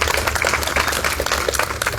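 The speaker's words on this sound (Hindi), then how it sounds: "उनके लिए भी जोरदार तालियां सभी लोग बजाते रहें" Sustained applause from an audience at an Igas 2022 stage event for disaster-affected children, greeting a woman invited onto the stage, with dense clapping steady throughout.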